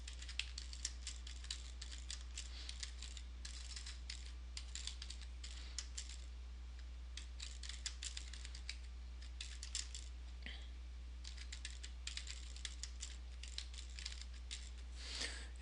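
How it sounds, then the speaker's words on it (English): Steady typing on a computer keyboard, with quick, close clicks arriving in uneven bursts and short pauses, quiet and without any voices. "I'm just going to type that information in here"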